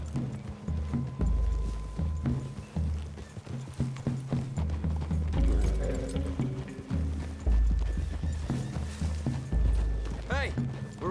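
Horse hooves in the video game Red Dead Redemption 2 clip-clop in a steady rhythm on hard ground, with creaking tack and a brief whinny near the end, against a low ambient background.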